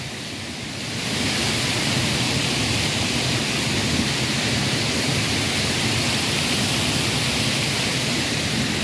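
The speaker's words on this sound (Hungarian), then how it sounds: "Még mindig a vízesésnél." Steady roar of a waterfall in the Scottish Highlands, heard close and full, rising in after about a second and then holding constant without any voices.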